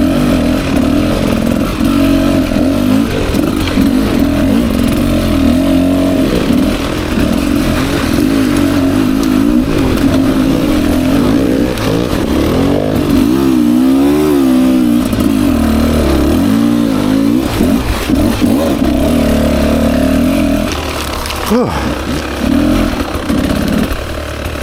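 A 2024 Beta 300 RR Race Edition two-stroke dirt bike rides single track, its engine droning loud and close throughout with shifting revs and a brief dip near the end, no talk over it.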